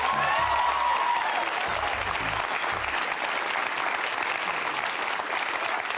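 Loud, dense applause from a studio audience welcoming guests to a televised debate on atheism, continuous and even for the whole span, with a brief low voice near the start beneath the clapping.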